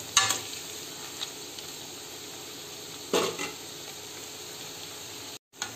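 Cauliflower 65 deep-frying in oil, an even continuous sizzle with a few sharp clinks of a utensil against the pan, no speech, cutting off abruptly near the end.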